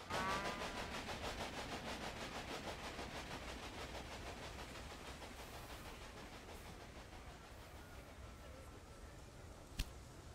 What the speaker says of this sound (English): Your train is now traveling between Omaha and Norfolk.